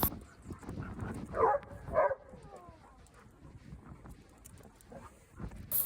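A small dog gives a couple of sharp yappy barks, then whines and whimpers softly, close by with faint background noise.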